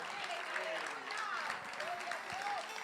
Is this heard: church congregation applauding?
yes